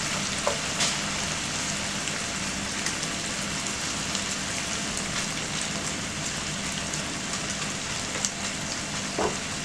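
Garlic frying in a pan, giving a steady, dense sizzle that crackles evenly throughout, with a few faint clicks from a utensil.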